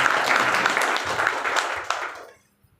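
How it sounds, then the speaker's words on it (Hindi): An audience applauds loudly at a meeting honoring an organization, steady clapping that swells briefly and then dies away to silence. "इस संस्था के लिए बार जोरदार ताली चाहिए दोस्तों"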